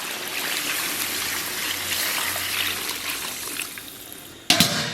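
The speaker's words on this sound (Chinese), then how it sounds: "然后咱们给锅里边稍微来点水" Water is poured into a pot of braised pork ribs, a steady close trickling stream that runs throughout before a brief sharp clatter near the end, with nobody speaking.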